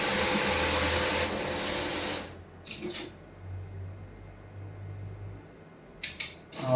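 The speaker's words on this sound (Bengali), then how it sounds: "তারপর হচ্ছে মেশিনে তার প্রসেস অনুযায়ী টাকাগুলো গুনতে থাকবে।" A bank cash deposit machine counts banknotes with a steady mechanical whirring for about two seconds, then settles into a low hum broken by a few short clicks.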